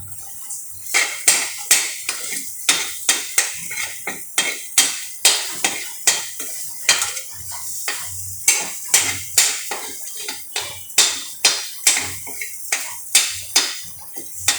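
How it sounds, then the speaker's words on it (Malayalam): Egg being scrambled in a pan with a metal utensil for an easy home lunch: steady, rhythmic clinks and scrapes, roughly two strikes per second, close and crisp, with no talking over them. "ഇത് നമുക്ക് ഈ മുട്ട ഒന്ന് ചിപ്പിയെടുക്കാം"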